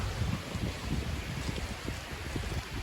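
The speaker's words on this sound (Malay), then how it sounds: "So sini angin kuat sangat." Strong stormy wind at a campsite, a loud continuous rushing roar with heavy gusty rumble buffeting the microphone, no voices.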